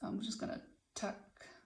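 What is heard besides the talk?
No everyday noises stand out.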